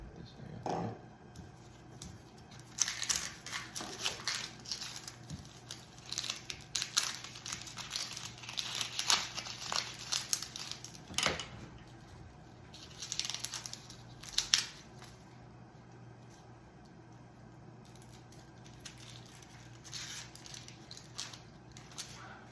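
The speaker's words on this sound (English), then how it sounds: "I want to cut up this onion on my weird parchment paper cutting board." An onion is cut on a parchment paper cutting board with crisp knife chops and crinkling paper rustle, irregular and close, fairly quiet throughout.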